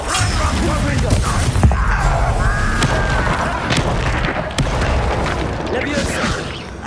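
A Confringo blasting spell bursts with booming impacts amid a Hogwarts Legacy video game duel, loud and dense, with shouted voices and other spell effects layered over a constant rumbling bed.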